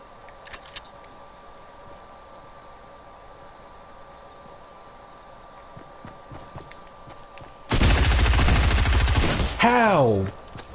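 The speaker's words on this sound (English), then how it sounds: "I went after that dude so hard, just to lose a gunfight" Fortnite gunfight: a long quiet stretch, then a loud, dense burst of rapid gunfire lasting nearly two seconds, a brief gap, and a second short volley with a rising and falling electronic tone.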